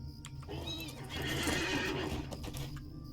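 A horse in a video game neighs with a long, loud whinny that swells through the middle and trails off, standing clearly on its own without talk.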